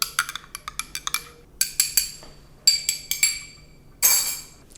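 A spoon stirring an espresso shot in a glass gives a run of bright, close clinks, some single and some in quick clusters, ending with a louder rattling burst, with no one talking.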